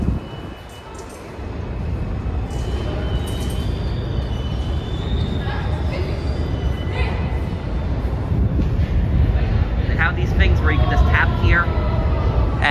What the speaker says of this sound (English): And yes, the trains are actually that loud.